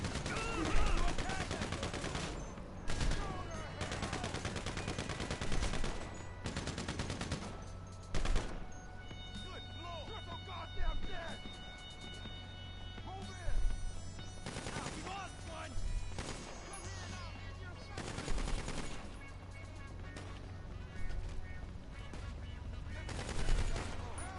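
Gunfire in the video game GTA 5, repeated bursts of rapid shots spread across the clip under voices chatting over the action.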